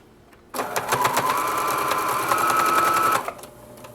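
A sewing machine top stitches a seam on a child's boxer brief in one steady, loud run of fast needle strokes lasting under three seconds, starting and stopping sharply.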